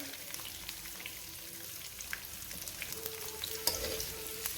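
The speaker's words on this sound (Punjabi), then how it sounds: "ਇਹਨੂੰ ਆਪਾਂ ਭੁੰਨਾਂਗੇ ਚੰਗੀ ਤਰ੍ਹਾਂ" Garlic roasting in a pan for a homemade carrot-garlic pickle gives a steady, close frying sizzle with soft stirring scrapes, holding an even level throughout with a single sharper clink near the end.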